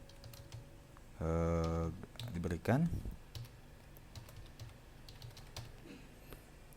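Soft, quick clicks of someone typing a username and password on a computer keyboard, partly under a person speaking and a brief tonal sound.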